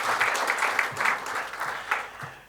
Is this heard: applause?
yes